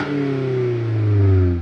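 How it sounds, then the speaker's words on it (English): A 2022 Toyota Corolla engine revs steadily through a sport-tuned exhaust, a deep droning note that rises slightly in pitch and volume toward the end. "since we have a sport tuned exhaust on this Corolla"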